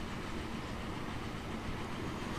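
A train passes in the railway-building game Transport Fever, heard as a steady, continuous low rumble with a faint clatter. The sound stays even throughout, with no voices.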